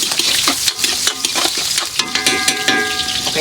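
Garlic, ginger and onion sautéing in hot cooking oil, a loud, close sizzle with rhythmic scraping and stirring strokes throughout, no talking.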